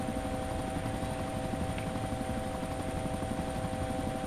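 A helicopter in the DayZ video game drones steadily with a continuous rotor thrum and a high engine whine, unbroken and fairly quiet.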